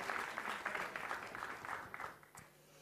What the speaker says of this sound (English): Can we give Khaled Jashell a round of applause for what he put in tonight?